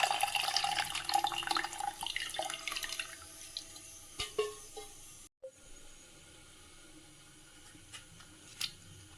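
Tamarind squeezed by hand in hot water while making rasam: splashing and sloshing water, busiest over the first few seconds, then settling into a quieter wet hiss with a few soft isolated splashes.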